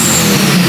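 An Audi engine revs hard at full throttle, giving a loud, steady, dense roar that holds throughout without a break.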